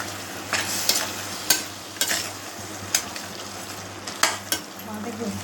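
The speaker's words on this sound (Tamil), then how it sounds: "வதக்கின்றோம்." Jackfruit pieces for biryani sautéing in a pan, with a steady sizzle under repeated scraping strokes of a spoon against the metal, close and moderately loud, with no talking.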